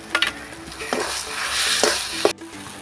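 Stuffing for potol dolma with nuts sizzles in a frying pan as a spoon scrapes and stirs it in quick, uneven strokes.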